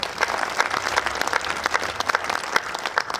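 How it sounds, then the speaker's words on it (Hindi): A comedy show audience applauds in a dense, steady wave of clapping that runs throughout, close and fairly loud, with crowd noise mixed in. "बस उतने लोग एक बार मुझे ताली बजाकर बता दीजिए"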